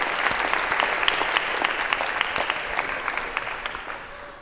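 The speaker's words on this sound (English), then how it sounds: "a round of applause for having so proactively volunteered" Lecture-hall audience at a Harvard CS50 computer science class clapping for volunteer teams called up on stage, steady dense applause throughout, fairly close and even.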